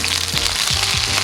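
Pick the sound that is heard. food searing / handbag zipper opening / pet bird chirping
food searing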